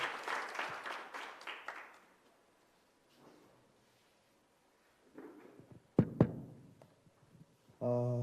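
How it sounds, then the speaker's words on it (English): Audience applause welcoming a speaker to the stage at the Annual Africa Conference on Social Entrepreneurship, a burst of clapping for about two seconds that fades into near silence, followed later by scattered knocks and a low hum. "round of applause"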